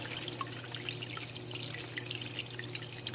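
Fresh juice from an electric juicer pours through a strainer into a gallon bucket, a soft continuous trickle with faint splashes and drips, quiet and steady without speech.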